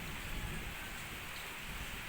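Heavy rain falls outside in a steady, dense hiss that does not let up, with no voices over it.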